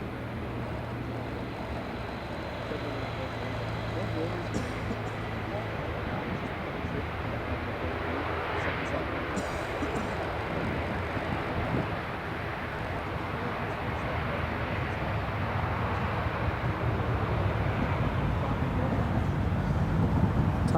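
An EasyJet airliner arriving at Newcastle Airport gives a steady distant jet rumble with wind noise, slowly building louder over about twenty seconds with no talking.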